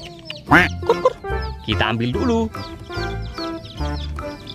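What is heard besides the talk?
rainbow chicken clucking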